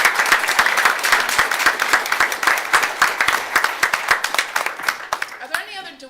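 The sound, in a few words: audience applause at school board meeting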